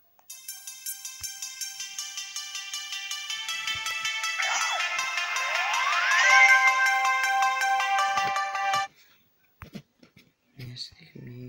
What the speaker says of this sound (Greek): αυτό είναι εντάξει, είναι μια ειδοποίηση